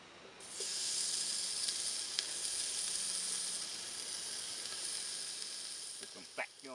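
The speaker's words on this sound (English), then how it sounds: "first thing I'm going to put in my pan is just a few little pieces of bacon." A few small bacon pieces sizzle in a pan over low heat, a steady, faint crackling hiss that starts abruptly and carries on evenly with occasional sharper pops.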